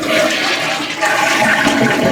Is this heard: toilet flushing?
yes